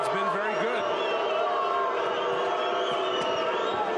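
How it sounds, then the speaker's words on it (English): An arena crowd at a boxing match at the MGM Grand in Las Vegas murmurs and calls out in displeasure, a continuous wash of voices with a commentator talking over it. "Some of the crowd not happy with him."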